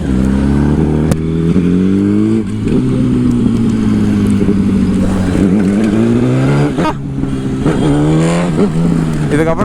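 A 2008 Yamaha R1 sport bike's engine runs loud and close, rising and falling through several throttle blips and revs, with a brief dip in the middle.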